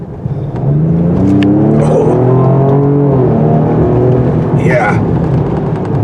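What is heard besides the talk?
Ford Explorer 3.0 turbo engine accelerating at full throttle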